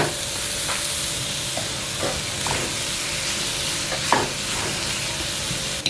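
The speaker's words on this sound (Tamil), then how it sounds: "இது நல்லா கிளறிட்டு மூடி விடுங்க." Plantain varai being stirred in a pan over steady frying sizzle, with soft scraping strokes repeating every second or so, close and fairly loud, with no talking.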